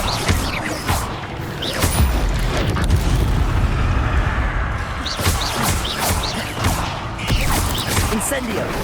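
Repeated fiery blasts from an Incendio spell in the Hogwarts Legacy video game, booming and crackling in bursts over a dense, continuous game soundscape with no gaps.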